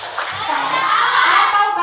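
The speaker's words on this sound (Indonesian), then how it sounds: "Tepuk salut." A classroom of children performs a rhythmic salute clap, hand claps mixed with young voices chanting together, close and lively.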